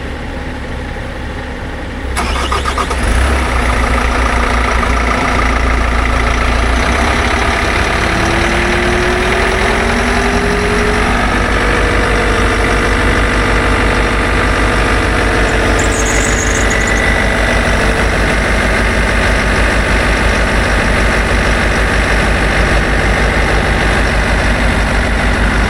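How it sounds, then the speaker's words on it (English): A Bobcat T66 skid steer starts after four months of winter storage: the engine cranks, catches within a couple of seconds, then settles into a loud, steady, throbbing idle close by. "Let's crank the Bobcat."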